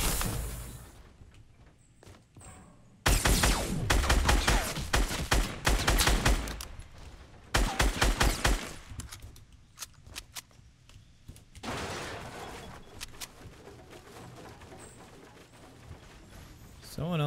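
Gunfire bursts out in Fortnite gameplay, with rapid clusters of shots in two loud volleys and sparser reports between them, over quieter game ambience.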